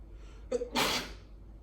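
A person sneezes once nearby in a quiet room during a bass lesson, a short sharp intake of breath followed by a loud burst that quickly fades away.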